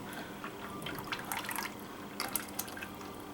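Liquid soap batter with bamboo silk trickles and drips through a strainer, soft scattered drips and splashes at close range, no talking.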